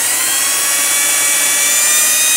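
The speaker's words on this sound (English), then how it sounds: "So let's go ahead and drill that." A steady, high-pitched power drill whine runs continuously, loud and close, boring the electronics cavity in a Yamaha Pacifica electric guitar body without pause.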